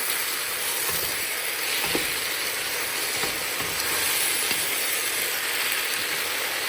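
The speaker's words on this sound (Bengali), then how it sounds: "ভালো করে চালগুলা আর সবজিগুলারও মিক্স করতেছি আমি" Rice and vegetables are stirred together in a hot pot, a continuous soft sizzle broken by a few faint scrapes and taps from the spoon, with no voices.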